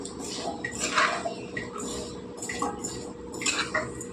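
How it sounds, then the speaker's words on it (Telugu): Potato pieces being mixed with salt and turmeric in a pan for curry, light scraping and clinking of a utensil against the pan in irregular strokes, close and moderately quiet with no talking. "ఒకసారి కలిపేసుకుందాం కొన్ని ఉప్పు పసుపు కలిపేలాగా కలిసేలాగా ఈ ముక్కలకి"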